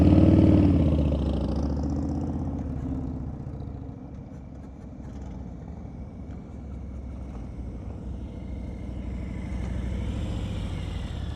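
A motorcycle engine idling and turning at low revs during slow speed riding practice in a parking lot, a steady mid-distance hum with a mild rise in pitch, and no voices.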